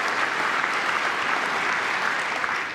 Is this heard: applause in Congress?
yes